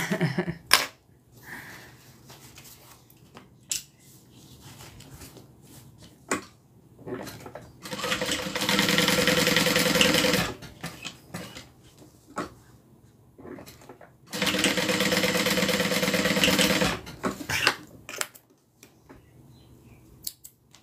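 A sewing machine top stitches a bag in two bursts of steady whirring stitching, each lasting a few seconds, with quiet clicks, handling and fabric rustles between them, close up and without talk.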